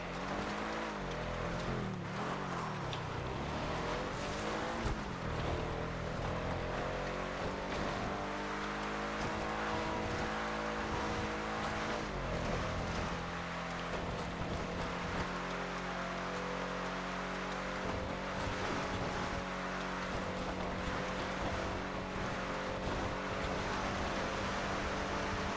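Ocelot XA-21 supercar driving in GTA 5, its engine droning loud and continuous with rising and falling revs, a couple of shifts and faint tire noise throughout.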